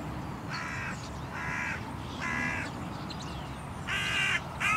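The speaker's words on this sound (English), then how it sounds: "the hooded crows spotted the dead bird straight away. And even though they flew overhead noisily, none of them would land on the ground" Hooded crows flying overhead above a field, giving five harsh, rasping caws spaced roughly a second apart over a low background rumble, the last call loudest and nearest.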